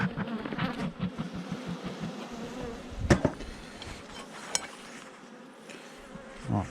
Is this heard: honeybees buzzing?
yes